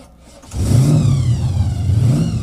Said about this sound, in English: I love the supercharger whine